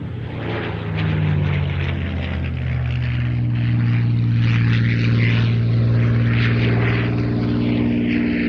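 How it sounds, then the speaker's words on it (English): A Supermarine Spitfire Mark IX, built at Castle Bromwich, runs its propeller engine at RAF Mildenhall. It gives a loud, steady, close droning roar that swells slightly after the first second and holds on with no talk. "She is a Mark 9, so the Mark 9, many people say perhaps the classic Spitfire Mark."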